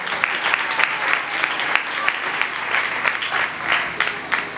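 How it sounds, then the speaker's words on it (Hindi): A sermon audience breaks into loud, sustained applause, many hands clapping in a fast, uneven rhythm that fills the room. "जोरदार ताली मेरे लिए"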